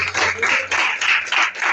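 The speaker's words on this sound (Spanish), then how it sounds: "Demos un aplauso al Señor" A congregation applauds during a church service, with bursts of clapping rising and falling in several uneven waves, fairly close and loud.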